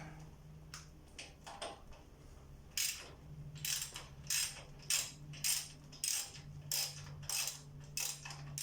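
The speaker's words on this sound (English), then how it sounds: "So we'll need to go back to the ratchet." A ratchet and socket work a tight bolt loose on a vehicle bash plate. First come scattered clicks, then a steady run of close, crisp ratcheting strokes in even rhythm, with no talk.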